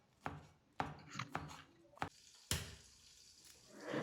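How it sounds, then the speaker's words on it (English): A knife chopping vegetables on a board for an egg sauce, several crisp, irregular thuds close by and fairly quiet, with no talk. "I cut all my vegetables down before cracking my eggs"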